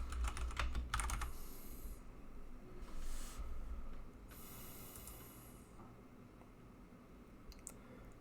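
A few quick keyboard keystrokes while working in a Windows server management console, heard as a short cluster of soft clicks at the start over a steady background hiss, followed by brief swishing sounds and then near quiet.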